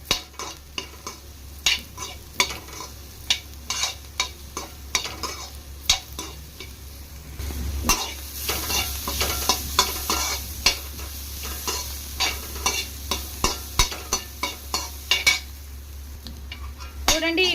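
Mixed vegetables stir-fried for veg fried rice crackle and sizzle in a pan, while a spatula scrapes and clatters against the metal again and again in a quick, busy rhythm.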